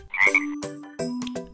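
A cartoon frog in a kids' animal feeding game gives a few distinct croaks, close and clear, spaced out over a second and a half with no talking.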